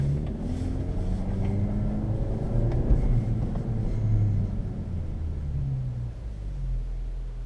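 A 2017 Honda Civic Hatch Sport with a manual gearbox drives over a snowy driveway, its engine giving a steady low rumble with shifting tones and a faint crunch of tires, no talking throughout.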